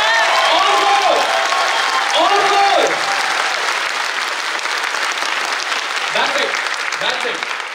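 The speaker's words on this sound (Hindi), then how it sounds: "जोर से तालियां।" An audience bursts into loud clapping on a count, strong at first and then thinning and tapering off, with a few voices shouting over it.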